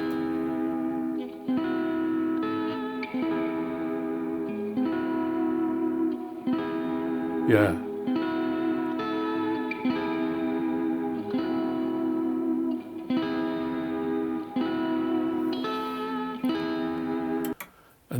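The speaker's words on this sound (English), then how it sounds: "Let's have a listen to this rhythm guitar." A rhythm guitar part from a song rings through steady, repeating chord strokes with echo and reverb for about eighteen seconds. A brief voice comes in once, partway through.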